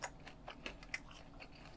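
Crispy fried chicken in a sweet-sour Yulingi soy-chili sauce is bitten and chewed up close, giving a few sharp crunches followed by quieter crackly chewing.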